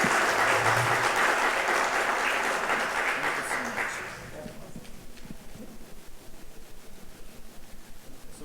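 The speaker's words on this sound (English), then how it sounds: "we would all like to join in giving a very big round of applause" A crowd applauds loudly, then the clapping thins into scattered, rhythmic claps that fade lower.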